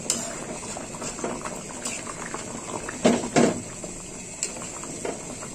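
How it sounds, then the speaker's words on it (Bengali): Meat simmers in a pot after hot water is added, giving a faint, continuous bubbling broken by a few sharp clanks of utensils against the pot. "দিয়ে দেবো গরম জল। এবার একটু ফুটবে।"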